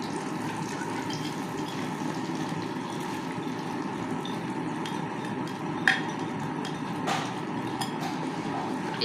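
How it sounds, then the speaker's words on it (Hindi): Egg, sugar and milk paste poured into hot oil in a wok for a sweet egg halwa gives a steady, moderate sizzling hiss with a few faint clinks of utensils. "तो दूसरी साइड में ये हमने जो अंडे और चीनी और दूध का पेस्ट हमने तैयार किया वो डालेंगे"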